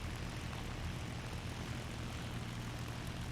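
Twin piston engines of an XP-50 fighter in War Thunder drone steadily and loudly with a low propeller hum, one engine failing and the other throttled back to 80%, with no voices.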